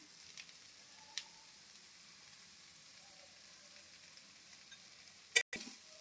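Spiced flour curry with chili powder and salt is stirred in a pan. Faint, steady frying sizzle with a few soft spoon scrapes and a sharp clatter near the end.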